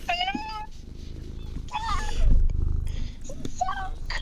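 Pet cat vocalizing close to a microphone, giving several short meows and a low purring rumble beneath, with people talking intermittently over it.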